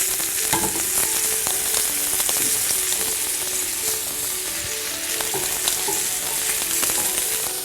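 Butter melts and sizzles steadily around potatoes in a hot pan as crushed crispy potatoes cook alongside pork loin steak, a continuous close frying hiss with small crackles and occasional utensil clicks, no talking.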